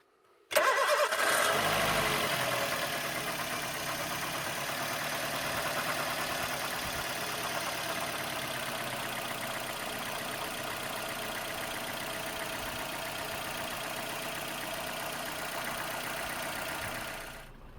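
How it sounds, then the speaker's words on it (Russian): LAVR ML-203 car engine cranks and starts, then settles into a steady, loud idle to warm up, running continuously alone with no pauses. "Заведем мотор, пусть немного помолотит, чтобы поднагрелся."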